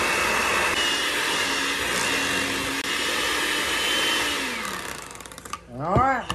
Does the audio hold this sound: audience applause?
no